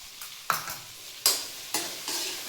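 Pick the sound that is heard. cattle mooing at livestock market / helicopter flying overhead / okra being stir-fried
okra being stir-fried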